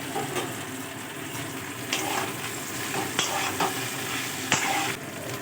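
Fried potatoes being stirred into vegetables for Bengali sukta, a continuous sizzle under repeated scraping strokes and clanks of a spatula in the pan, close and fairly loud.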